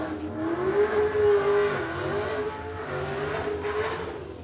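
A Ford Sierra Cosworth drag car accelerating at a no-prep drag strip, its engine note rising and falling through the gears at a moderate distance, steady and unaccompanied by talk.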